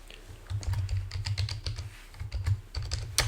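A name being typed on a computer keyboard in quick bursts of close, crisp key clicks, with a short pause midway and a sharper tap at the end.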